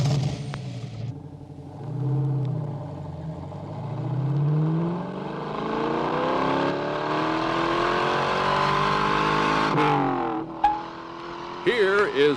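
A 1965 Chevrolet Corvette sports car drives past, its engine note climbing and falling through gear changes as it accelerates, loud and near, with a brief pause before another revving burst at the end.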